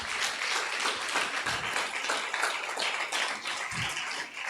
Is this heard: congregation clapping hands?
yes